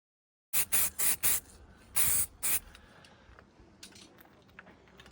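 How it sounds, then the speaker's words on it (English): An aerosol can sprays plastic primer onto a Porsche 997 body kit: six short, close hissing bursts in quick succession, followed by faint rattles and handling noise in a quiet room. "I'm just going to try a bit of plastic primer."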